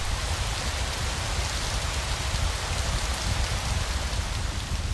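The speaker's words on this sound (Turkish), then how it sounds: "Şiddetli rüzgar, dinmeyen yağmur ve soğuk." Dense, heavy rain pouring steadily with strong wind and cold in a river delta, a constant loud hiss of drops striking surfaces with a low, rumbling undertone.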